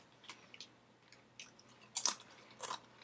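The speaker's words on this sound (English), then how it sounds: "They have a really good crunch to them." Cheddar and onion crisps crunch between the teeth in a few sharp, close bites, with quieter chewing in between and the loudest crunches near the end; no talking.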